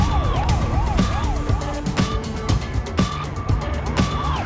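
Cartoon police car siren wailing in a steady rising-and-falling pattern over a loud driving-engine bed, joined by repeated sharp impacts and crashes during a chase.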